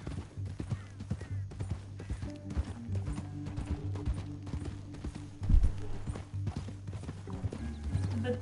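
Horse hooves clip-clop steadily at a walking pace in Red Dead Redemption 2, a close, rhythmic clatter with faint game ambience and little talk.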